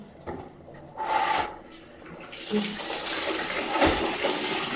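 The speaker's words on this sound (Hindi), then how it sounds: "पानी को भर लेती हूँ।" Water running into a container indoors, a steady broadband rush that grows fuller and continues to the end, with some handling clatter and no clear talk.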